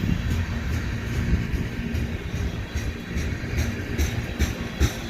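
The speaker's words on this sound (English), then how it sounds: "I like hearing trains." Train rolling past on a cold day, its continuous rumble and clatter steady throughout with rhythmic wheel knocks and no voices.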